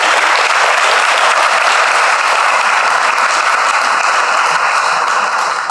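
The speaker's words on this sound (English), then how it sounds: "Let's give him a round of applause." Steady, loud applause from an audience at a county district presentation, sustained clapping filling the whole stretch without a break.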